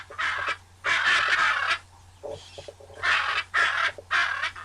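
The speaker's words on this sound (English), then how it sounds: "they heard a loud sound of warbles and screeches" A large cage full of many kinds of birds on a lawn, heard up close as loud bursts of harsh, crow-like screeching and warbling calls in repeated waves with short pauses between them.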